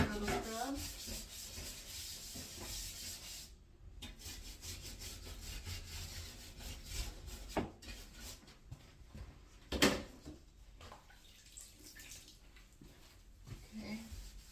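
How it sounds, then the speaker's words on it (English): Dense, continuous scrubbing of a dusty bathroom surface, a close rough rubbing texture with a few brief knocks and pauses, fairly quiet overall and without speech. "So we're going to give it a good little scrub."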